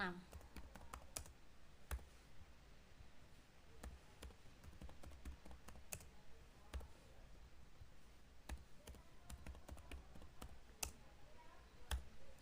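Someone types on a computer keyboard while entering names, usernames and passwords into a Java train-ticket admin program, with quick irregular key clicks, close but quiet, and a voice talking at times.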